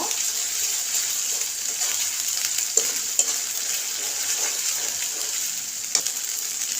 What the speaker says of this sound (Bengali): তো এটা আমি একটু ভালোভাবে রসুন পেঁয়াজের সাথে মিশিয়ে নিব।